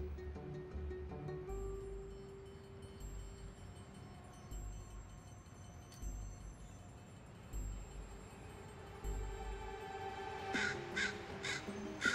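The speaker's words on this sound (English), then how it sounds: "just the tentative scold of one young crow" A young crow gives a few tentative scolding caws, faint and distant over quiet outdoor ambience, with a cluster of harsher calls near the end.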